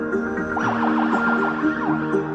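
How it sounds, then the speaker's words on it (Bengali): A patrol police siren wails in quick rising and falling sweeps, loud and close, over a steady low hum of traffic. "মাঝে মাঝে টহল পুলিশের সাইরেন শুনলেই সটকে পড়েন সবাই"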